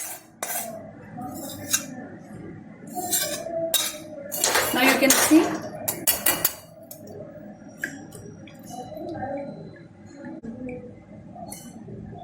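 Homemade ghee being collected into a steel container, with clinks and scrapes of steel utensils and a busier burst of metal clatter in the middle, close and moderately loud, with brief talk.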